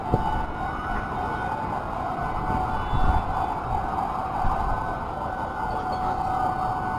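A fire truck siren wails continuously at moderate distance during a fire, its steady tone holding over low traffic rumble.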